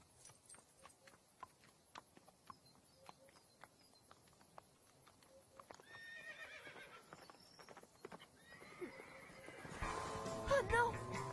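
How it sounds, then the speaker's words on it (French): A stallion gallops and neighs, with soft hoof clip-clops running through the first half and a busier, louder burst of whinnying and hoofbeats near the end, mixed with other voices and ambient noise. "Cet étalon est une vraie fusée."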